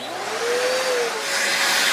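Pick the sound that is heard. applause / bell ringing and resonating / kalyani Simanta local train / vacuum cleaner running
vacuum cleaner running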